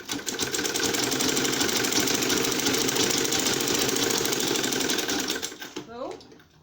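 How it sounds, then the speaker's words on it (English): Sewing machine stitching an insulated lunch bag, a steady rapid mechanical whir running loud and unbroken for several seconds before stopping, after which a voice briefly speaks. "So I'll sew it like this,"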